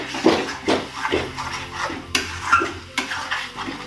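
A spice masala made with mustard is sautéed in a pan for cashew prawn curry. Repeated close scraping and stirring strokes of a spoon against the pan come in a loose rhythm over a faint background of frying.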